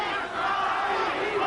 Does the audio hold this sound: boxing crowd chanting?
yes